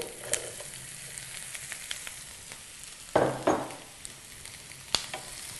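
Potato pieces tumble into hot oil with frying onions and green chillies for an aloo kurma, a burst of sizzling and stirring scrapes around three seconds over a steady low crackle, with a few sharp clicks.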